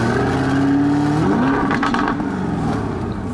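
A Lamborghini Urus police car with an eight-speed automatic gearbox revs hard up close, its engine note climbing, dropping, then rising again in a short, loud burst.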